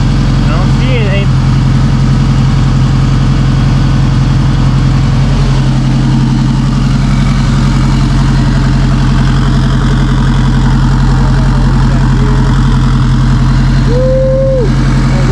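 A freshly rebuilt Honda K24A engine idles after its first start, a loud, steady, even drone running continuously close by, while someone talks over it.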